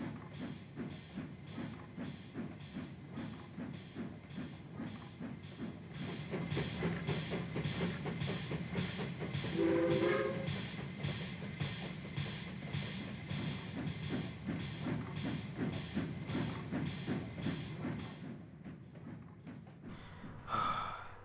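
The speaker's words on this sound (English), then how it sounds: "He watched a few trains go by." A train rumbles past with a steady rhythmic clatter of wheels over rail joints, fairly close and continuous, with a hissing burst near the end.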